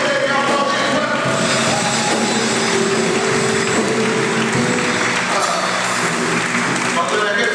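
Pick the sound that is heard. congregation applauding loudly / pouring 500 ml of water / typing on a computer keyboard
congregation applauding loudly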